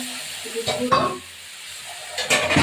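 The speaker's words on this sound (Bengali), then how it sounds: "এবার আমি মাছের এই তেলটা দিয়ে দেবো" Fish oil goes into a hot pan with cauliflower, mutton and tomato, and bursts of sizzling and stirring come up close. A quieter gap falls between them.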